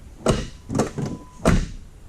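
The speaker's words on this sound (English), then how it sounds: "I open the back door," A few dull thumps and clunks from a Lincoln Town Car's back door opening, spaced irregularly over two seconds, with a faint high electronic tone between them.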